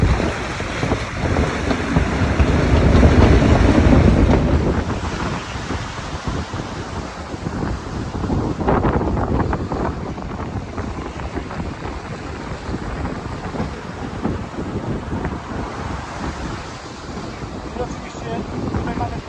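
Wind blows hard across a sailboat out on Gdańsk Bay, a constant roaring gusty rush mixed with water and hull noise that swells and eases throughout.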